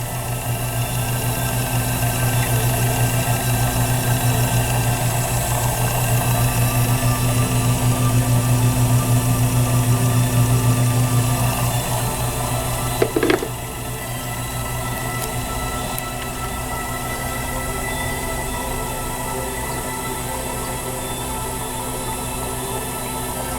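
A DC treadmill motor spins a belt drive on a homemade HHO power station, giving a steady mechanical whir and hum that runs the whole time. There is a short knock about halfway, after which the hum drops slightly.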